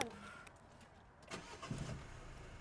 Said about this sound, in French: On va mettre en route le moteur dès que tu es prête